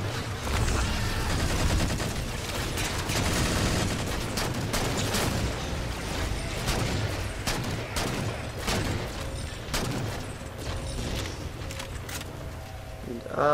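Rapid bursts of gunfire aimed at the player in the Halo 4 video game, a continuous fusillade of shots with booms under a dense, busy battle mix.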